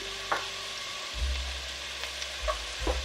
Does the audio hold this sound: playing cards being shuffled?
no